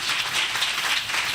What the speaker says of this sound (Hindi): जोरावर के लिए जोरदार तालियां बजा दें।